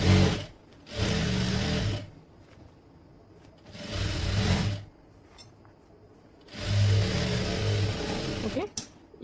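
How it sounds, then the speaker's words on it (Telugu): A sewing machine stitches along the boat neckline of a designer dress in three separate runs of whirring stitching, with short pauses between them. "దీన్ని మనం ఫస్ట్ ఒక కుట్టు అయితే వేసేసుకుందాం."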